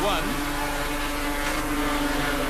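1986 250cc production racing motorcycles on a race circuit give off a loud, high-pitched engine whine that sweeps and drops in pitch as they pass, while a commentator talks over them.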